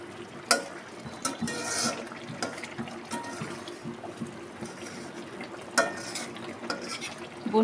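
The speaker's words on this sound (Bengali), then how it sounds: "মাছগুলোকে নেড়ে দিচ্ছি" Fish frying in a pan is stirred and turned, with soft sizzling under irregular scraping and clattering of the utensil against the pan, close by and fairly quiet.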